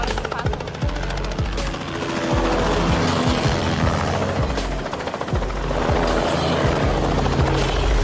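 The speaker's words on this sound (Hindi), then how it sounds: "इतनी सी ऊंचाई पे हेलीकॉप्टर उड़ाना वैसे ही बहुत खतरनाक है।" A helicopter flying at very low height, its rotor blades chopping in a fast, loud, steady rhythm close by, a hard pulsing thud that fills the whole stretch without speech.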